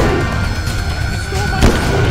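Gunshots fired at Bigfoot in a multiplayer hunting game, heavy booming shots over a rumbling outdoor soundscape, one sharp loud crack standing out near the end, with voices talking now and then.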